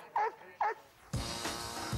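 An Airedale terrier gives two sharp barks in quick succession, close and fairly loud, followed by a burst of broadband noise.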